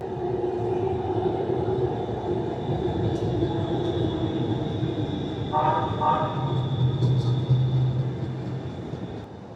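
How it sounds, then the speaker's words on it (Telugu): A metro train in downtown Houston rumbles steadily close by, with a brief higher tonal squeal midway and a low hum later; faint voices are mixed in. "ఇప్పుడు మనకెదురుగా ఒక మెట్రో వస్తుంది."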